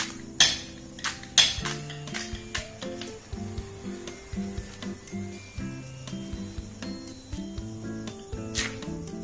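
A knife chops and scrapes through pieces of yam being cut and peeled for a Bihari khatras pickle, with irregular close taps and clicks against a board and occasional metallic clinks, fairly quiet overall.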